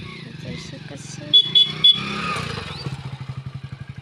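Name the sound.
motorcycle engine running after being started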